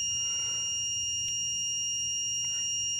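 A crane console overload warning at full capacity on a Carrydeck crane, a steady high-pitched electronic tone held continuously and fairly loud over a low hum.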